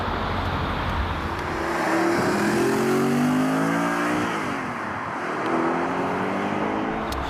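A 2008 Audi R8 supercar engine revs and rises in pitch, holding a strong mid-range drone that swells and falls twice, close and loud with no voices over it.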